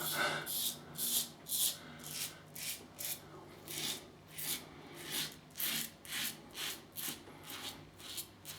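Merkur Progress adjustable safety razor on setting 3 shaving whiskers with Astra green blades: a regular series of short, crisp scraping strokes close to the microphone, each a rasping swipe separated by brief pauses.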